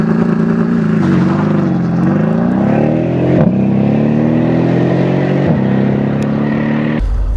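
A twin-turbo Mercedes-Benz SL63 AMG roadster accelerates hard, its engine note a loud, steady roar that climbs in pitch through the gears, with brief dips at shifts and no talking over it.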